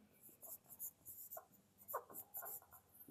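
Chalk or marker strokes on a board during a physics lesson, a quiet series of short scratchy scrapes and taps at an irregular rhythm, faint and close with no talking.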